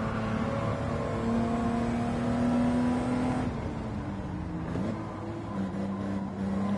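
A car engine revs steadily in a racing video game, holding a loud droning note with pitch shifts as gears change, continuous and close, with no talk.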